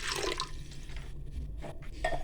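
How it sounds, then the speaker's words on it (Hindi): Water from a glass poured into a pressure cooker sitting on a lit stove while cooking black chickpeas (kala chana), a steady close splashing and trickling that lasts about two seconds with no talk. "अपने इसमें 1 गिलास पानी शामिल कर देंगे।"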